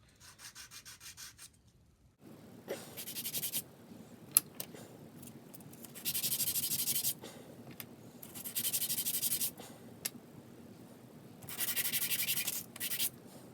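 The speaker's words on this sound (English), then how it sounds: "Now they're all done, and we just clean them up on a piece of sandpaper." Small wooden model boat doors rubbed on a sheet of sandpaper, close repeated scratchy sanding strokes in bursts of a few seconds, with brief gaps and light clicks between passes.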